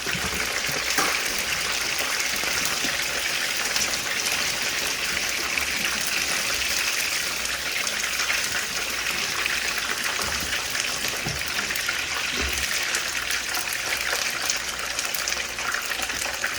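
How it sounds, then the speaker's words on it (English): Tap water runs steadily into a sink during handwashing in a home kitchen, a continuous close splashing hiss that holds at an even level throughout with no voices over it. "I'm gonna wash my hands real quick"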